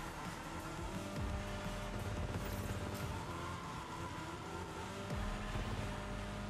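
Video game car engine with tire squeal as the car drifts with the handbrake in Fortnite Rocket Racing, a steady loud racing drone with screeching skids throughout and no talking.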